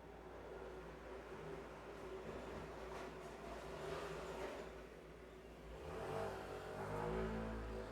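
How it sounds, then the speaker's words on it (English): Loud motorbikes heard from indoors as a distant, muffled engine drone that swells and fades, with a stronger surge of revving toward the end. "See what I'm saying about those loud ass motorbikes?"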